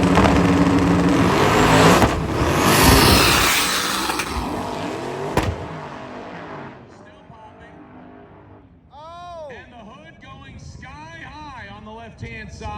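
A pair of Mopar drag cars, one a Cuda, launching at a drag racing event during Sick Week: a loud roaring engine burst that fades away into crowd noise and whistling, with people talking.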